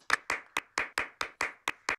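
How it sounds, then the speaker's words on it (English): Nine sharp hand claps in a steady, slightly uneven rhythm, close and fairly quiet, with no talking. "Tom, why are you not clapping?"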